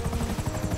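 Helicopter in the video game GTA 5, a steady loud rotor drone with rhythmic chopping thump filling the whole clip, heard alone without talk.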